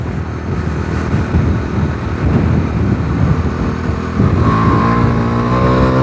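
A Bajaj Dominar 250 motorcycle ridden hard through a bend, its engine droning loudly and steadily up close, then climbing in pitch as it accelerates out of the turn near the end.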